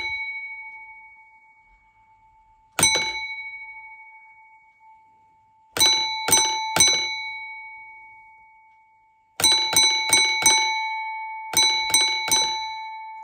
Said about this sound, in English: because it's a mineral train, that'll come under a bell code of 3.